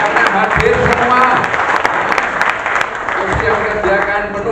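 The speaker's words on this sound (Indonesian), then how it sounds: "tepuk tangan untuk Kabupaten Malang, ya, tepuk tangan semua" Applause from an audience at a coordination meeting of volunteers held in a hotel, a steady dense wash of clapping that fills the room, loud and close, with some voices mixed in.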